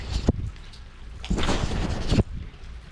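Steady morning rain patters in the background on Koh Samui, Thailand, with a few louder rushing swells, and no one speaking.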